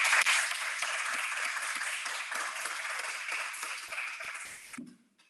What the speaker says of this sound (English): I think you deserve a huge round of applause from us